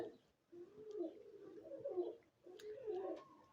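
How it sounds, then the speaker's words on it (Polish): Short-beaked pigeons coo softly in a loft, giving three low, rolling phrases separated by short pauses, faint and close with no other sounds. "Gołębie już sobie widzę, półki obierają powoli."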